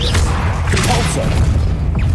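Repulsor spell cast during combat in the Hogwarts Legacy video game on PS5, a dense booming magical blast with heavy low rumble and crackling energy that stays loud throughout amid other spell effects.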